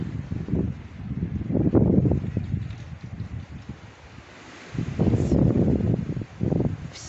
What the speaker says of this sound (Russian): Сильнейший прям ветер сегодня.